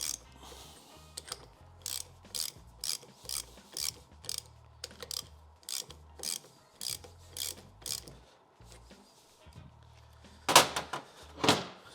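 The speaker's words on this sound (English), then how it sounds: "again, I can tighten these up" A ratchet wrench tightens the valve bolts on an Interpump pump, producing a regular series of short, close clicking strokes with pauses between them, ending in a few louder metallic scrapes and clanks.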